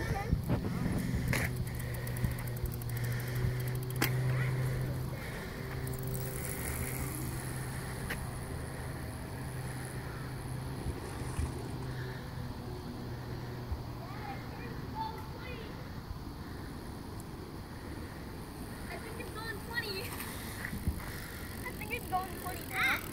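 A Haro electric BMX bike running at about 46 volts rolls past in a steady whir with rattling over the ground, heard up close and continuous; people talk over it near the start.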